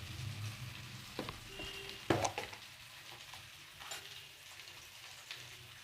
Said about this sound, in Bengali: তেলটা গরম হয়ে গেছে, যে মাটি আলু সেই আলু দিয়ে দেব।